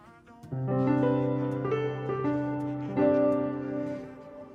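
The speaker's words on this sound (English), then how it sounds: "the first thing I've got open is a piano already ready to record." Sustained piano chords played slowly, a few changes ringing out clearly and close, with no voices.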